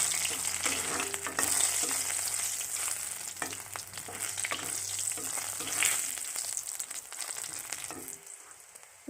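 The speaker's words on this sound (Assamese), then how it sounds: "তেল গৰম হৈ গৈছে, এতিয়া নহৰু দি দিছোঁ।" Garlic fries in hot oil for an Assamese dal kochu xak, a leafy taro dish, with a continuous close sizzle and the occasional scrape of stirring. The frying fades out toward the end.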